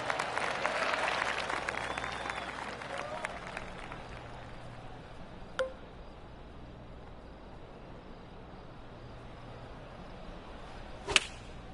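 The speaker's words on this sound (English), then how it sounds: "That deserves a golf clap" A polite golf crowd claps at the 15th hole of the Valero Texas Open at TPC San Antonio in PGA TOUR 2K25. The applause is steady over the first few seconds, then fades to quiet ambience broken by two sharp clicks.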